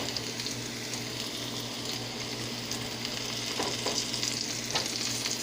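Eggplant and onions fry in a pan with a steady, close sizzle, broken by a few soft stirring scrapes near the end.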